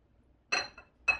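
Fork tines clinking against a bowl while scooping out pickled summer squash, two short bright scrapes about half a second apart, close and fairly quiet with no talk.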